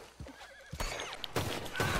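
A horse in the Red Dead Online video game neighs in a short whinny, followed by louder bursts of hoof and movement noise, fairly close and clear with no talk.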